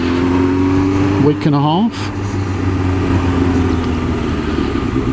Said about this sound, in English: thought I'd get the bike out while it's nice and take it for a bit of a ride